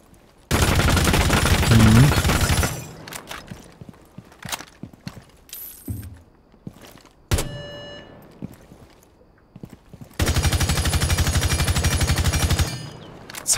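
Gunfire from a weapon in the tactical shooter Rainbow Six Siege, two long sustained automatic bursts at start and end, with scattered single shots, clicks and game effects between.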